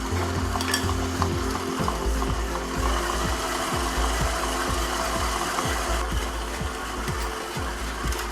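Stand mixer whirring steadily while egg whites go into a chocolate dessert batter, a continuous close motor drone with a faint rhythmic beating texture and no talk.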